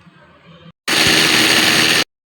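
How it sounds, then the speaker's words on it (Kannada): A mixer grinder blends green gram with jaggery and water, starting abruptly with a loud, steady high-pitched whine that holds for over a second and then cuts off sharply, following a quieter lead-in. "ಇದನ್ನು ಗ್ರೈಂಡ್ ಮಾಡೋಣ"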